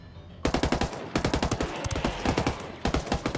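Rapid automatic gunfire in the video game Ghost Recon Wildlands, loud repeated bursts of shots in quick rhythmic succession, with a brief pause between volleys.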